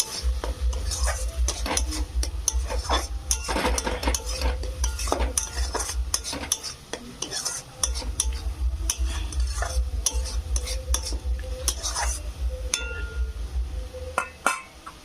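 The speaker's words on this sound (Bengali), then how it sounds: "এবার এই মশলাটা ভালো করে আমি সব কিছু উপকরণ দিয়ে ভালো করে এটা আমি মাখিয়ে নেবো" Spices being mixed into a potato curry for aloo dum in a pan, a spoon scraping and clinking against metal in steady repeated strokes over a low sizzle and a constant low hum, close and fairly loud, no talking.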